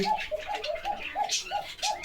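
High flyer pigeons at a pigeon market coo in a steady run of soft, rounded, repeated notes, fairly close, with faint market noise behind.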